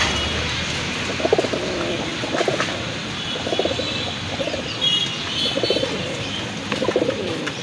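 Pigeons at a seller's pen coo in soft, rhythmic bursts that repeat about every second, over a steady hiss of background noise with faint chirps.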